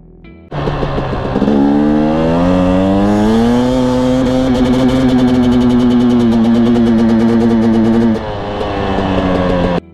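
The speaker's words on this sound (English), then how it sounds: "out in the mid to entering that high range mark, it was pinging and acting as a rev limiter" A Husqvarna TE250i two-stroke dirt bike engine revs up loudly and holds high RPM for several seconds, stuttering and pinging like it is bouncing off a rev limiter, then drops back toward idle.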